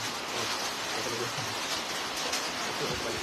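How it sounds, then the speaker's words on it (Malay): Rain falls near a zinc roof in a dense, continuous hiss of drops, close and fairly loud, with faint voices underneath. "Aku tengah berhujan ni"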